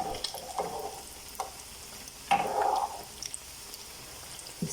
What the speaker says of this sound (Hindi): हमने इनको डीप फ्राई नहीं करना, हमने इनको शैलो फ्राई करना है